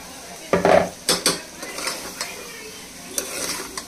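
Rice is fried with masala in a pot for a Khandeshi khichdi, stirred with a metal spoon that scrapes and clanks against the pot over a low background sizzle.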